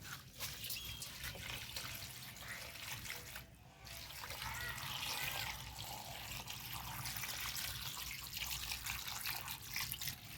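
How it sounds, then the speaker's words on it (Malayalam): Water is poured and splashed while fresh turmeric roots are washed, a steady continuous trickle and splash throughout, close by, with no clear talk. "വെള്ളം ഒഴിക്കട്ടെ"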